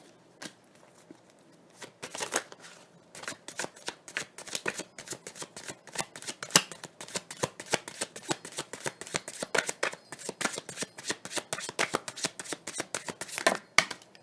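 Tarot cards shuffled by hand in rapid crisp riffles and flicks, close and dry, building into steady dense shuffling with a few separate card slaps as cards are drawn.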